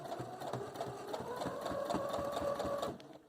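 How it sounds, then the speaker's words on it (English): A sewing machine stitching forward on a pillowcase, a close, steady mechanical whir with a rapid rhythmic needle clatter that picks up slightly in pace before stopping near the end, with no voice over it. "that kind of makes the machine go backwards and tie the knot, and then we're just going to start sewing forward"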